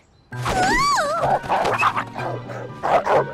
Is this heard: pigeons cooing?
no